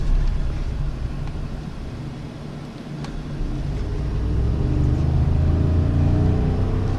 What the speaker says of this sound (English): This thing gets up